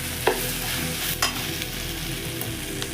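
Chopped okra stirred and fried in a pan for a home-style Indian palya: a continuous close sizzle with a few sharp scraping strokes of the spoon, and no talking.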